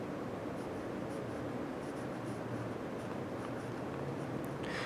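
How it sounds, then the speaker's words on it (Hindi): A pen writes the word maths on paper, giving a soft, close, continuous scratching and scribbling with short strokes, quiet against a steady background hiss. "तो यहाँ पे लिखेंगे मैथ्स।"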